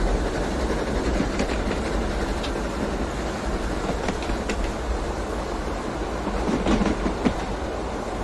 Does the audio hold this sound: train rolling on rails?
yes